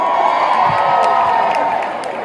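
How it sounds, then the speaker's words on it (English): Concert crowd at a Christmas festival cheering and screaming, a dense, steady roar of many voices with scattered high whoops, loud and close, fading slightly at the end. "You guys are screaming for it"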